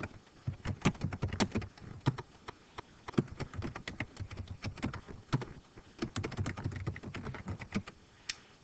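Fingers tap steadily on a computer keyboard, a close, quiet run of rapid clicking keystrokes with brief irregular pauses and no voices.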